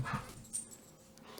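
Playing dogs let out a brief, faint yip or bark, soft and muffled, over low background noise.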